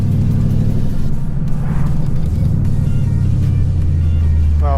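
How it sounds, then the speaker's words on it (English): Steady low rumble of road traffic with cars moving nearby, a dense continuous drone of engines and tires heard from inside a 2011-or-later S197 Mustang 5.0 fitted with an AIRAID cold air intake. "there's so much traffic over here."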